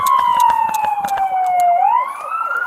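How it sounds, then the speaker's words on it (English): Ambulance siren wailing loud and close during a police pursuit, its tone sliding slowly downward then rising again, with rapid pulsing bursts and road rumble beneath. "You got an ambulance in front of you now."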